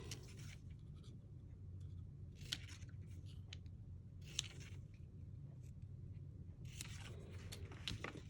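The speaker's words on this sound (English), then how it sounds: "I'm just going to bring in my snips, and I am going to cut the words out" Paper card stock is cut with small snips, giving faint, close crisp snipping sounds in a few short clusters against a quiet room.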